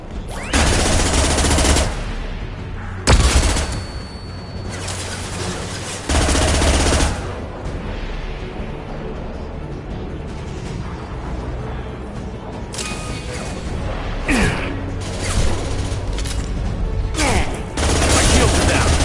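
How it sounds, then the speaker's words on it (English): Repeated bursts of gunfire and sharp blasts from flashbang grenades fill a Mass Effect 2 firefight, loud and close, with dense volleys broken by brief gaps. "Watch out, flashbangs!"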